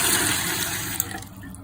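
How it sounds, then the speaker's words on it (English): Water pours steadily from a container onto bathroom floor tiles during grouting, a continuous close splashing trickle that eases off near the end. "So we're gonna fill in some water."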